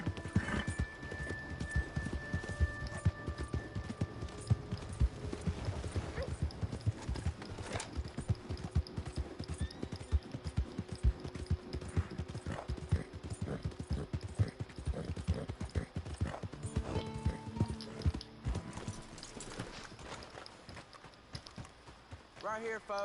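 A horse gallops in Red Dead Redemption 2, its hooves clip-clopping in a fast, steady rhythm throughout, mixed with other game sounds and a voice speaking at times.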